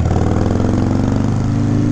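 A 1997 Harley Davidson Sportster XL1200S motorcycle engine running close and loud, a deep, even pulsing throb with no change in pace.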